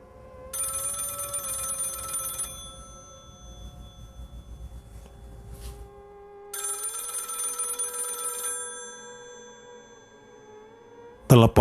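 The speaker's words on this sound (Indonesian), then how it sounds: "telepon kos berdering kencang hingga terdengar di ruang tengah ruang utama" A boarding-house telephone rings loudly at night, two long bursts of harsh bell ringing separated by a pause, with a low rumble underneath and a sharp clatter at the very end.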